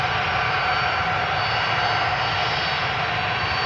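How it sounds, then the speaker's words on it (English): Delta Airbus A330-300 jet engines roaring during a rejected takeoff at Amsterdam Schiphol, a steady loud broadband engine roar heard from a distance with no talk. "Rejected takeoff, numero dos."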